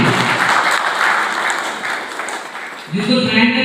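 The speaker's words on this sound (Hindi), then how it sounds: "उनके लिए एक बार जोरदार तालियां।" Loud applause from a crowd at a film launch ceremony in Chhattisgarh, steady and dense, dipping briefly before swelling again near the end.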